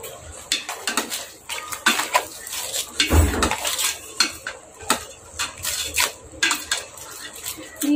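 A utensil scrapes and clinks against a metal pot of boiling ginataang labong with crab in a busy, uneven rhythm, with soft bubbling beneath the close stirring.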